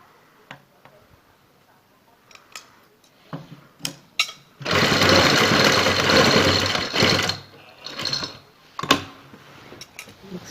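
An electric sewing machine stitches piping onto a garment neckline in a steady burst of several seconds, framed by scattered clicks and handling taps before and after.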